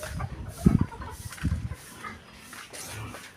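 Farmyard chickens clucking close by, a few short low bursts of clucks spaced about a second apart over faint background noise, with no talk.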